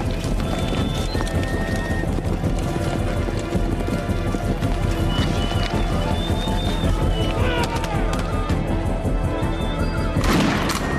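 A thunderous rumble of many horses galloping across open plains, with dense overlapping hoofbeats and occasional whinnies filling the whole stretch at steady high loudness.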